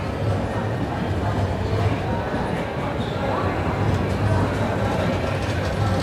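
Puri–Ahmedabad Superfast Express standing at platform 2 of Akola Junction, a continuous loud rumble of rail wagons with faint clickety-clack and station bustle, steady throughout with low hum.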